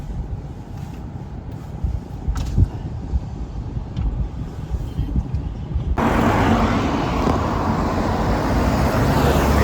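Car traffic moving along a road in Hiroshima, a steady roar of passing vehicles with wind buffeting the microphone, growing louder and denser partway through.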